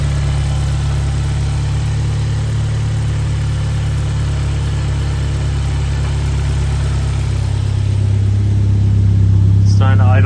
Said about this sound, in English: It's starting to idle down.